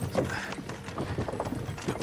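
Horses walk at a slow pace in the video game Kingdom Come: Deliverance 2, their hooves clopping in a soft irregular rhythm with faint creaking tack, moderately close under a low ambient background.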